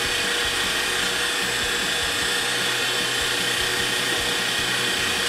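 An electric mixer whips eggs until frothy for a Slovenian nut roll, giving a steady, loud, high-pitched motor whir that runs unbroken from start to end with no voices.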